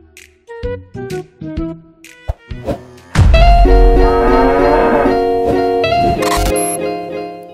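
A cow lowing in a long, loud, drawn-out moo that swells and slowly fades, preceded by several short knocks and thumps, close to the microphone.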